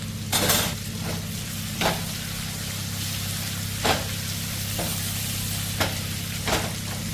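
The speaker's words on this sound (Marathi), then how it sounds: "फिश बघा मस्त फ्राय झालेली आहे आमची कशी ना चारी साईडने चांगली फ्राय करून घ्यायची" Bangda mackerel fillets frying in a pan give a steady close sizzle throughout, with several sharp clicks and scrapes of a utensil turning the fish; no talking.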